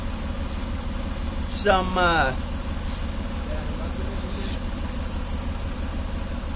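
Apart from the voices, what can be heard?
2004 Acura MDX engine idling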